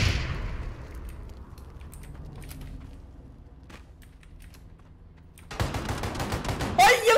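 Gunfire in the PUBG battle royale game: a sharp shot at the start that rings away, a few faint distant shots, then a loud rapid burst of automatic fire near the end.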